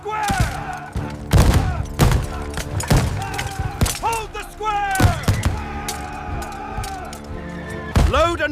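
Musket volleys crack out at the Battle of Waterloo as ragged bursts of gunfire. Repeated loud reports and booms land irregularly, with shouted voices mixed in between the shots.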